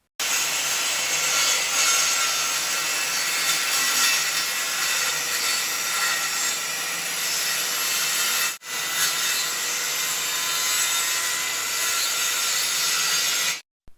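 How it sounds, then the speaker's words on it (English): A circular saw rips a thin strip off the edge of a hardwood plywood piece, a loud, steady, close-up cutting whine held for about eight seconds, briefly breaking off, then resuming for a second long pass. "Just strip off the side to get a finer quality cut with the circular saw."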